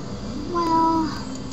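A cat gives a single drawn-out meow, a clear steady tone lasting about half a second, heard close and fairly loud over faint room noise.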